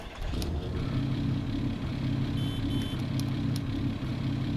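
A truck engine in Farming Simulator 22 runs with a steady, loud low rumble that holds throughout, with faint high electronic tones and beeps appearing midway and no talking.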